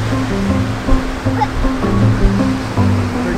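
Ocean surf washes onto an Outer Banks beach, a steady rushing roar close by with small swells, mixed with low engine-like droning hum.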